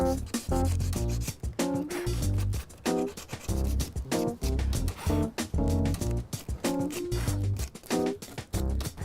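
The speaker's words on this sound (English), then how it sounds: "all I've done is taken a little bit of sandpaper and started to massage that paint off" Sandpaper rubs paint off an old wooden nightstand in quick, rhythmic back-and-forth strokes, a close, scratchy scrubbing that repeats steadily with no talking.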